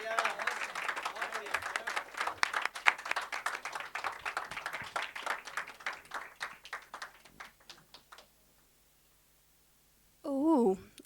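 Audience applause after a Hindi love-poetry recital, a dense run of clapping that swells and then thins into scattered claps before dying away, followed by a brief voice at the end.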